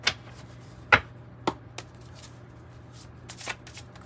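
A Waite Newman tarot deck is shuffled by hand in short, crisp riffling bursts, several sharp flurries spaced irregularly with quieter gaps between, close and clear.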